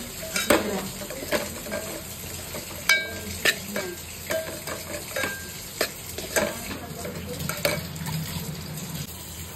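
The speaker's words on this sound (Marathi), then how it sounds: "हळद आणि मसाला आहे, त्याला व्यवस्थित मिक्स करून घ्यायचं" Turmeric and masala stirred with a spoon in a pan for a stuffed crab curry: oil sizzles underneath while repeated metal clinks and scrapes against the pan come in an uneven rhythm, close and with no voices.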